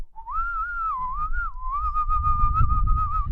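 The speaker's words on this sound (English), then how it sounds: "You do a good whistle." A person whistles a clear, sustained melodic tune with gliding pitch changes, close and fairly loud, accompanied by soft low rustling and handling noise.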